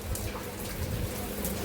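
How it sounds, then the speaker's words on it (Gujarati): Heavy rain lashing a farm field in gusty wind: a short, soft, continuous roar of falling water with scattered drop patter and no voices. "એવો વરસાદ જીકે છે ભાઈ"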